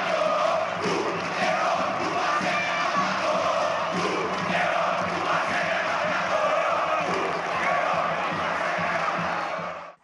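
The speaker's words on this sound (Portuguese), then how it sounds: "E ganhou até grito de guerra da torcida do Leão" Comercial (Leão) football supporters roar a war chant in a dense, continuous crowd wall, loud and sustained throughout, with no single voice standing out.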